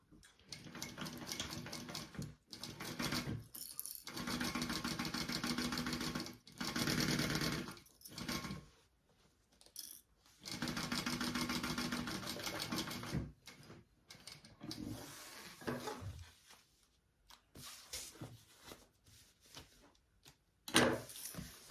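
A sewing machine runs in long continuous bursts, stitching along the top of a bag's zipper for a Zuma Sling, with short pauses between runs and no talking.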